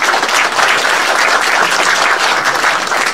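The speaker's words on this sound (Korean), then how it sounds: "여러분 박수로 환영해 주시기 바랍니다." An audience at a small book concert bursts into loud, sustained applause to welcome a former party emergency committee member, the dense clapping filling the room without pause.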